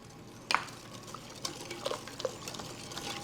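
A whisk clinks and scrapes through milk and flour batter in a bowl, making faint, irregular taps and soft wet stirring in a quiet room.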